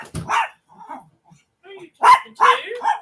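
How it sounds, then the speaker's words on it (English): A guard dog barks in short, loud bursts close by, with a few scattered yips between them and someone talking softly in the pauses. "She's being a good guard dog."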